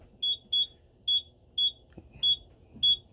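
Simplex fire alarm sounding during a walk test: six sharp, shrill electronic beeps in an uneven pattern, loud and close, with faint low room rumble and a soft thump between tones.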